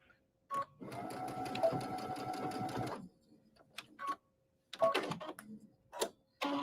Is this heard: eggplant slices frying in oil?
no